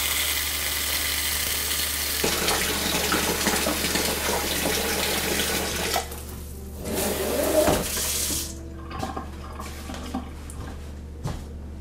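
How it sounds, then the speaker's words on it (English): Water gushes steadily from a tap into a bucket for several seconds, then cuts off, leaving a few clunks and drips. "I'm just going to fill this second bucket here full of water"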